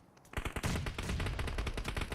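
In the PUBG Mobile battle royale game, close, loud gunfire rattles in a dense automatic burst that starts abruptly and keeps going without a break.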